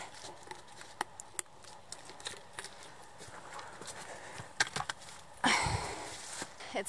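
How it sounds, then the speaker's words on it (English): Rain at a campsite during a wet solo overnight camp, heard as irregular scattered drips and taps over a soft steady patter, with a denser, louder burst of drops late on; no one speaks. "still raining and everything is wet"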